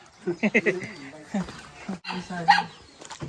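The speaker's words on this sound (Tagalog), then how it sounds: "May aso po, baka kami kagatin." A dog outside a house gives short yips and whimpering barks in a quick cluster, then more barks later, mixed with nearby people talking.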